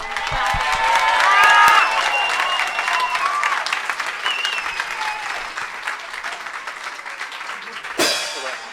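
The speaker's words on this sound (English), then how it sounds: "just everybody gives a big cheer and a lot of clapping" A crowd at an astronaut radio contact event cheers and claps loudly, with whoops and shouting voices over sustained applause that slowly fades, ending with a sharp burst near the end.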